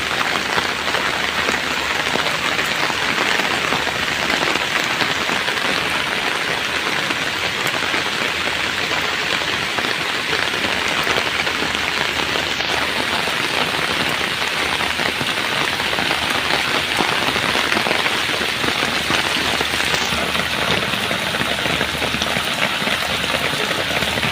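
Steady, heavy morning rain pours down continuously in a village, a dense hiss of drops on surfaces with no pauses and no voices.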